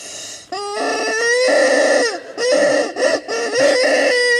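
A fried-chicken toy gives loud, close squawking clucks and crowing calls in several rising and falling bursts, alone with no talk.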